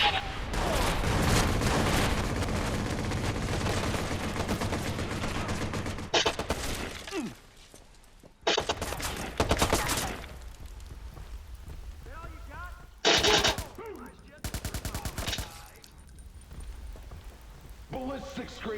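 Gunfire in the video game Watch Dogs: a dense, crackling barrage of rapid shots fills the first several seconds, then thins to scattered bursts and sharp single cracks. Faint game sounds run between the bursts.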